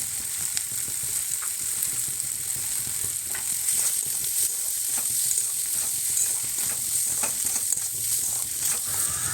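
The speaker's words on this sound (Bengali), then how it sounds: "একটু জিরে গুঁড়ো, লঙ্কার গুঁড়ো দিয়ে ভালো করে নাড়াচাড়া করে নেব" Ground cumin and chili powder are stirred and fried in a kadai for a homemade pasta sauce. A steady close sizzle carries repeated scraping strokes of a spoon against the pan, with no talking.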